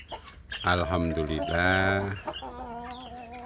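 Free-range village chicks and hens cluck and chirp loudly and close by at feeding time, with someone speaking briefly over the calls.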